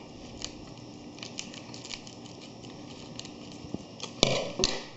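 Scissors snip through a plastic piping bag during cupcake decorating, giving a few soft close cuts and then two sharper, louder snips near the end, with no talking.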